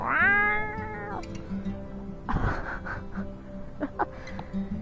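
A house cat lets out a long, loud drawn-out meow near the start, followed by quieter room sounds and soft background voices.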